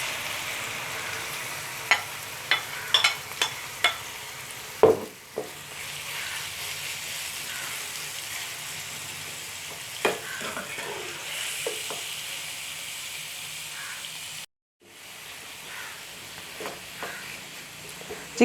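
Marinated chicken sizzles steadily in about two tablespoons of hot oil, a continuous frying hiss with a few sharp clinks and spatters early on, a brief drop in sound near the end, then the sizzle resumes.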